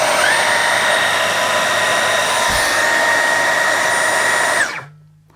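A Dyson V12 Detect Slim cordless vacuum with its rotating brush tool runs at a loud, steady high-pitched whine, then powers down and falls silent near the end.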